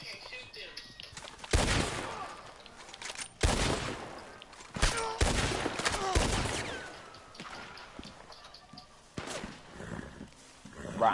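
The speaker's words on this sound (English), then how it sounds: "They shooting at me." Video game gunfire, several sharp loud bursts and single shots scattered across the stretch, mixed with rumbling background noise and occasional talking.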